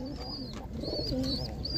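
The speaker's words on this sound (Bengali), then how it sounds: "একদম ছোট্ট পায়রা, একদম ছোট্ট পায়রা" A young Andhra pigeon gives soft, low coos close by, faint and brief against a quiet background.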